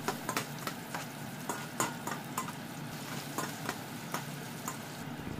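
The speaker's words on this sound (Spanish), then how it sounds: "a mí me gusta siempre empezar a saltear el ajo, que esté un poquito doradito y luego ya incorporo" Garlic and onions sauté in a pan with a steady close sizzle, broken by repeated sharp clicks and scrapes of a utensil stirring, with no talking.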